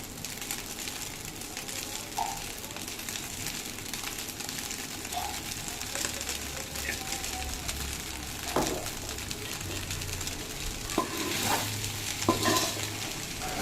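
Rice being stirred and mixed with a utensil in a frying pan after a little soy sauce is added, sizzling steadily with scraping stirs and occasional clinks throughout, close and moderately loud.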